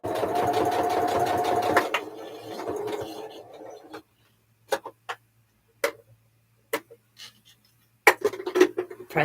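A sewing machine stitching a quilt block, a steady close whirring run of needle strokes, then a pause broken by short clicks and brief bursts of stitching.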